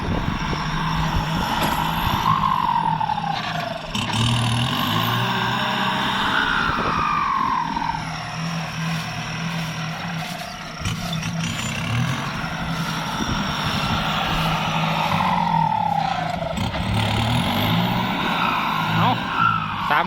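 A Kubota tractor ploughing rice stubble back into a field drones steadily and loudly with a low, continuous engine rumble, its pitch swelling and easing slightly as it works, with no break across the whole stretch.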